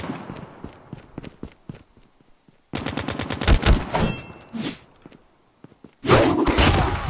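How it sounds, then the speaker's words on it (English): A sentry gun in a video game fires in sharp bursts of rapid shots, loud and close, with quieter gaps between the volleys. "Be advised, hostile sentry gun spotted."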